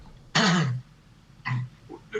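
A single throaty cough or throat clearing, followed by a shorter second rasp and a faint trailing sound, fairly close and quiet.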